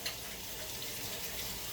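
A steady hiss of water running from a tap into a measuring cup, close and continuous with no voices.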